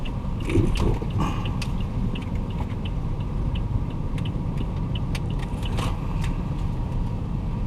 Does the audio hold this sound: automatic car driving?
yes